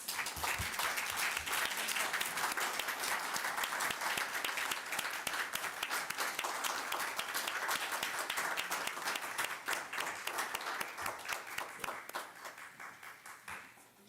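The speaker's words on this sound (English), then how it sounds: "Can we give them a round of applause?" A large audience at a town council meeting applauds steadily with dense overlapping claps, sustained for several seconds before gradually tapering off toward the end.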